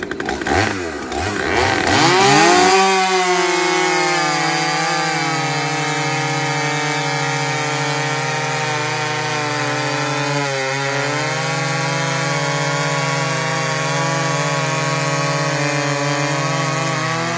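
A power saw cuts through a stock exhaust muffler pipe, a loud steady grinding whine with a harmonic drone that ramps up in the first couple of seconds and holds without a break to the end.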